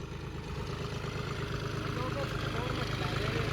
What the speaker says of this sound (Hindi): फिलहाल ये ट्रैक्टर चल रहा है पहले के हाई में और चौथे का लो लगाई